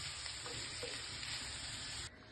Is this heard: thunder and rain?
no